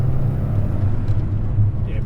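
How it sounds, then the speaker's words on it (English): A boxer engine in a car rumbles low and steady, close and loud throughout, with someone talking over it. "Straight away you notice that Boxer rumble"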